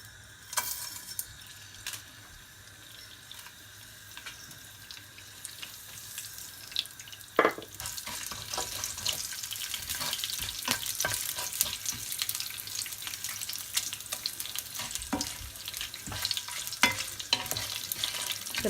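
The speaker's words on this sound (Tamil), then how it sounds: "எண்ணெய் சூடாயிட்டுது. இப்போ தாளிக்கு தேவையான பொருளை போட்டுடலாம்." Steady crackling sizzle of tempering spices frying in hot oil for crab curry, with a sharp burst partway through as more go in, then continuous bright popping and hissing.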